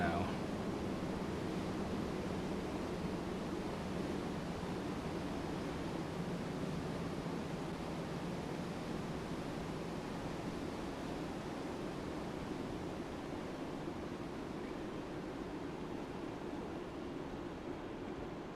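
A Grumman HU-16 Albatross seaplane sits on the water in Microsoft Flight Simulator 2024. A steady broadband wash of engine rumble and water noise holds at an even level throughout, with no pauses.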